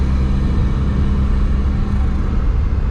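A Honda S660 engine gives a low, steady rumble with a slight flutter, close and continuous for a few seconds with no voices over it.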